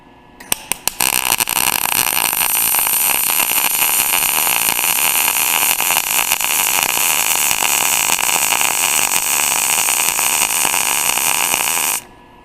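MIG welding with the shielding gas turned back up: after a few sharp initial crackles, a loud, steady, close-up hissing buzz runs unbroken for about eleven seconds, then cuts off abruptly.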